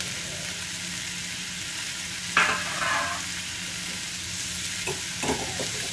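Drumstick flowers and buds sautéing in a pan for a Marathi-style bhaji, a steady soft sizzle with a few brief scraping stirs partway through, no talking.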